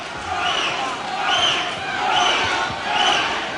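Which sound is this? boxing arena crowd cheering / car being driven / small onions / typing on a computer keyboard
boxing arena crowd cheering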